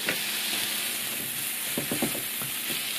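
Steady loud sizzle of flour frying in a hot pan, with a few soft scraping stirs near the end and no talking.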